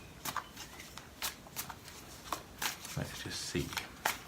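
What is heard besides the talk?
shuffling tarot cards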